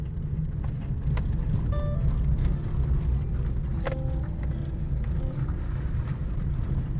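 A car with hand-operated gear controls drives along a road through a dense pine forest near Shimla, giving a steady low engine and road rumble with wind buffeting and small rattles inside the cabin, and no talking.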